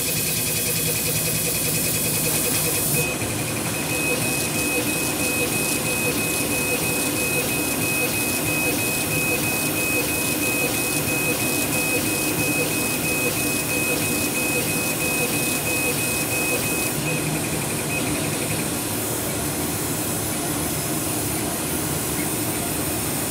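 A laser engraver fitted with a camera runs its framing pass, giving a loud, steady mechanical whir and hum with shifting motor tones, continuous for over twenty seconds.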